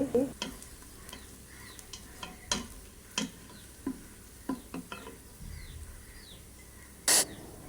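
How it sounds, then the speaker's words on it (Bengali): Onions fry in a pan for fish curry, a soft steady sizzle under sharp, irregular clicks and taps of a spatula stirring against the pan, with one loud brief scrape near the end. "মাছ রান্না করার জন্য আগে পেঁয়াজগুলো ভেজে নিচ্ছি।"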